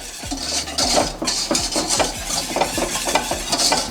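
A whisk beats sugar and pectin into fruit puree in a pot, a quick, steady rhythm of close wet scraping and clinking strokes, with no talk.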